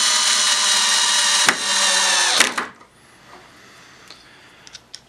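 A drill with a driver bit sinks screws into a wooden storage cabinet, whirring loudly and steadily for about two and a half seconds with a couple of brief bumps, then stopping, followed by a few faint clicks and knocks.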